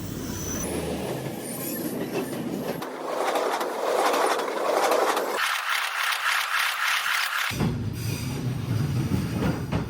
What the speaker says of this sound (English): wait for the train to pass by, just inches away